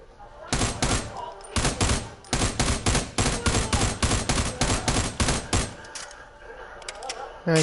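Rapid gunfire bursts from a pistol in a shooter video game, a long run of sharp, loud shots in quick succession with brief gaps, ending in quieter background noise.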